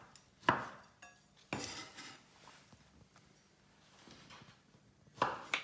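A knife cutting a pomegranate on a board: a few separate scraping and clunking strokes with quiet gaps between them, fairly faint.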